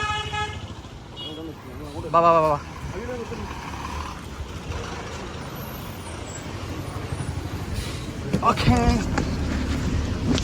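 A bus runs on the road during a trip to Mookambika and Kudagadri. Its engine gives a low rumble, and there are sharp horn toots near the start and again near the end, with voices talking over the noise.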